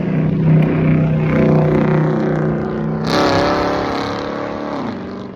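A Dodge SRT8 in yellow bumblebee style drives past at a car meet, its engine a loud close rumbling drone that rises into a sharper roar midway, then fades slightly as it moves on.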